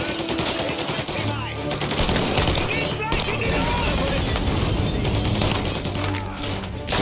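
Rapid bursts of gunfire ring out in a Mafia: Definitive Edition shootout, loud crackling volleys with sharp impacts, while someone talks over the action.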